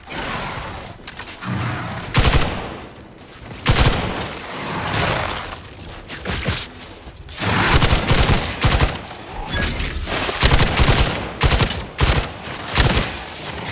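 Sustained gunfire from a firefight in the video game Outer Worlds 2, dense bursts of shots and booms running loud and continuous throughout, with no clear talk.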